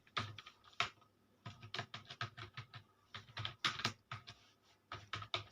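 Fast bursts of clicking keystrokes on a computer keyboard while building a salary slip in a spreadsheet, close and crisp with short pauses between runs, no voice.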